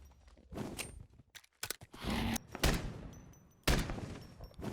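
Rocket explosions in the Minecraft video game, fired at a dragon from horseback: several sharp, close bursts and thuds in an irregular sequence, with scattered clatter between them.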